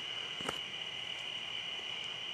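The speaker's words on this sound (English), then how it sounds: "listening to the crickets and the river behind me" A continuous high, shrill cricket trill fills a quiet night, steady and unbroken, with a few soft clicks in the background.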